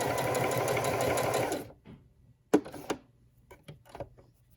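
A domestic sewing machine stitches a straight line through fabric, a rapid, even mechanical chatter running steadily for about a second and a half before stopping, followed by a few sharp clicks and knocks of handling nearby.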